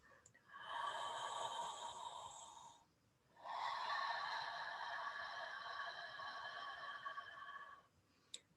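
Slow, exaggerated breathing through a constricted throat gives a close, hissing, wheezy breath, with one long breath, a short pause, then a second longer breath.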